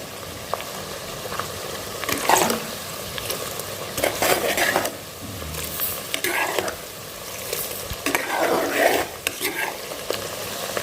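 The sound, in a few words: onions frying in a pan for mutton biryani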